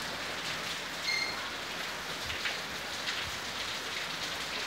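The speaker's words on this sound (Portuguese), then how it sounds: "Chuva em Abaeté." Steady rain falling in Abaeté, a dense even hiss of drops on surfaces with a few louder patters, heard alone with no voices throughout.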